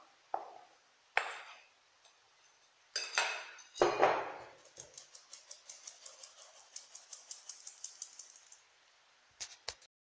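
A utensil scrapes and clinks against a bowl while chocolate cake batter is mixed, first in a few irregular knocks, then in a quick, steady rhythm of light taps, close and clear, with no talking.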